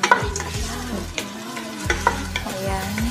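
Yellow sweet potato frying in a pan hisses and sizzles continuously while a utensil scrapes and stirs it in several sharp, uneven strokes, close up with no voices.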